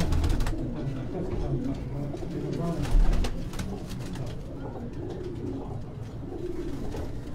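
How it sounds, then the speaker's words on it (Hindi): Trained flying pigeons cooing on a rooftop in Quetta, a steady soft murmur of many birds close by, layered over constant background noise, with no clear speech. "ये सारे परवाजी कबूतर है अपने इंशाल्लाह।"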